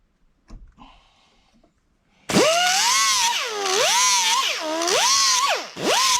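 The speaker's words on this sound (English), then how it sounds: "I'm going to have to grind a little bit, this little tab right here" A power grinder works a small metal tab on a 2009 Pontiac Vibe brake bracket, starting after a short quiet pause, then whining loudly and close in repeated rising and falling pitch sweeps as it bites and eases off.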